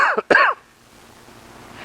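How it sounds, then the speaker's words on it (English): A single short cough or throat clear, loud and close, during a metal shaping session on a Jaguar E-Type bonnet, followed by quiet room tone. "One cough."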